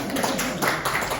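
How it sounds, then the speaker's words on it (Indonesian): Applause at a police wedding hearing, a dense wash of hand clapping from a seated group that fills the short moment steadily and fairly loudly. "tepuk tangan dulu terakhir ya"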